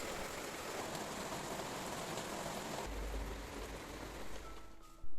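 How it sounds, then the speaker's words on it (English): Steady rain pours down outdoors, a dense continuous hiss of falling drops that stays fairly even before a brief dull bump near the end, with no speech. "the rain came right back down."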